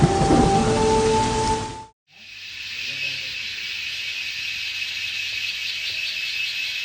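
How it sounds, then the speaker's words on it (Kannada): Steady, even hiss of monsoon rain at Kudremukh fills most of the clip after a brief louder burst and a short dropout near the start. "ಮಳೆ ಶುರುವಾಯ್ತು"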